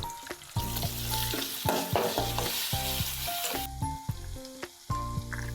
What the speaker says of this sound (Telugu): ఇప్పుడు పచ్చిమిర్చి, ఉల్లిపాయలు, కొంచెం పసుపు వేసి బాగా కలిపి మూత పెట్టి 1 నిమిషం మెత్తగా అయ్యే వరకు ఉడికించుకుందాం.